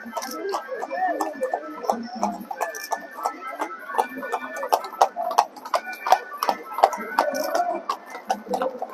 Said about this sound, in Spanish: si no, es que viene otra ronda de más caballos